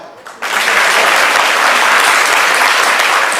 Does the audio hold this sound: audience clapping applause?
yes